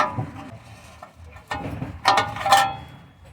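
Ratchet wrench backing an oxygen sensor out of a Dodge Ram's exhaust, heard as a few close, uneven bursts of metallic clicking, with the loudest rattles near the end.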